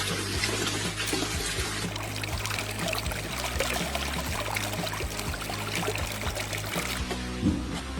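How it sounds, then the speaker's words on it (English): Water running through a homemade pipe system and draining out into a forest, a continuous close trickling and pouring stream that stays steady throughout, with no voices. "Water flows perfectly through the pipes, and drains safely out into the forest, completing the loop."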